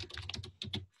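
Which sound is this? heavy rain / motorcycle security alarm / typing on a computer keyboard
typing on a computer keyboard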